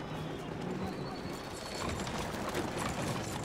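Horse hooves clip-clop at a relaxed walk in Red Dead Redemption 2, a soft steady rhythm over outdoor ambience, moderately near.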